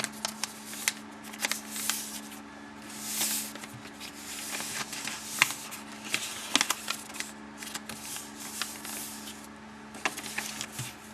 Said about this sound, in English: I open it back up and fold in my sides